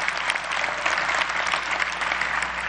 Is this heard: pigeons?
no